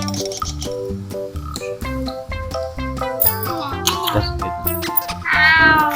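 A cat meows repeatedly in a home kitchen while fried noodles are being cooked, mixed with clinking dishes and household clatter, close and fairly loud.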